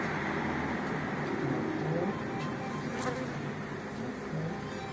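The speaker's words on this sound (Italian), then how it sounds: "siamo in uno pieno di api." Honeybees buzz densely around a hive frame at an apiary near the Nuraghe Chervu in Biella, a loud, close, continuous hum with no break.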